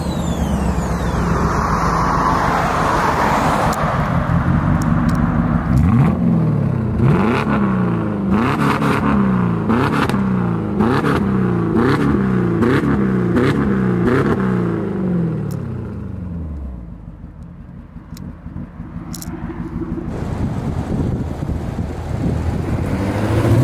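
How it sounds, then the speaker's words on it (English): Mercedes W210 Brabus E65 with a full Brabus exhaust system, including cats, resonator and muffler, revving loudly close by with rising and falling engine notes, then settling into a low idle rumble. "you'll see this one also comes with the full Brabus exhaust"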